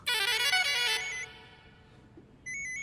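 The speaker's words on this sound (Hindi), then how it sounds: "जब भी आधी रात में फोन बजता है" Phone ringing at midnight: a bright electronic ringtone melody plays loudly, then fades, and a second ring pattern starts again after a short pause, with no talk.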